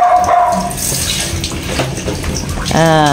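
Shower water runs steadily while a dog is bathed, with splashing and a brief whimper-like tone near the end; a person speaks softly over the spray.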